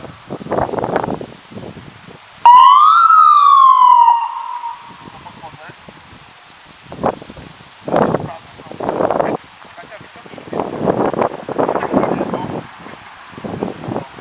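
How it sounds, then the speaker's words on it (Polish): An ambulance siren starts up at an accident scene during a road rescue course, a rising wail at about 2.5 s that sweeps and fades by about 4 s, followed by bursts of rustling and handling noise. "Zaczyna się syrena i będziemy ruszać."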